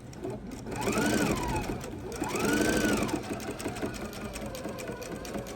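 A sewing machine stitches around the sections of a Noel tree skirt in steady, close bursts, its motor whirring loudly and swelling twice as the pace picks up, with no talking.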